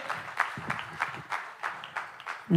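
An audience at a Sacha Mataji Pehedi community gathering breaks into applause, a run of rhythmic, moderately loud clapping bursts that continues steadily without pause.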